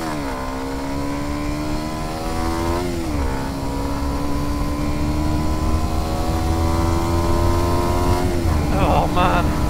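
A Kawasaki Ninja 125 motorcycle accelerates hard after a launch, its high-pitched engine whine climbing through the revs with two brief dips at gear changes, loud and close throughout.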